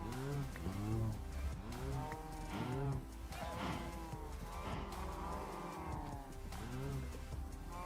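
In the video game Minecraft, cows moo repeatedly in low, drawn-out calls that overlap one another. The calls are steady and fairly loud over a constant ambient background, with no talking.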